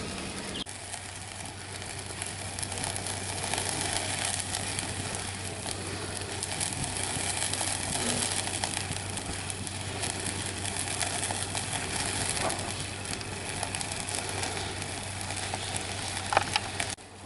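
Seekh kebab sizzles on the grill with a steady, broad crackling hiss that stays continuous and close, fairly even throughout, with a few faint pops.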